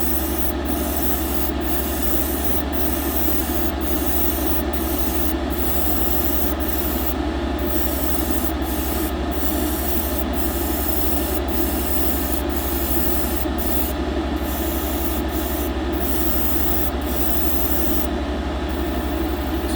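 A Gaahleri Mobius airbrush with a 0.3mm needle sprays paint at wide-open trigger, a steady close hiss broken by short regular breaks as the trigger is released and pressed again.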